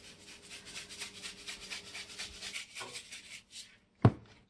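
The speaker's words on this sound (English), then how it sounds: "First thing we're going to do is we're going to salt it with some kosher salt." Kosher salt sprinkled over a chuck roast sitting in a braiser, a soft, steady granular rustle of crystals landing on the meat for a few seconds, then a brief pause and one sharp clack near the end.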